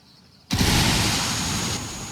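A frag grenade detonates in the video game Ghost Recon Wildlands: a quiet lull broken by one sudden loud blast that rolls on as a sustained roaring rumble and slowly fades.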